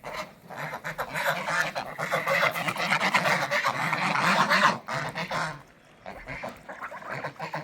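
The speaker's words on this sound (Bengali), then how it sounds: "এই আমাদের বাচ্চা হাঁসগুলো নিয়েছিল দাদা, আজকে দেখো কত বড় হয়ে গেছে।" A flock of grown village ducks quacks loudly and continuously near a pond, calls overlapping in a dense, raucous chorus that briefly dips before resuming.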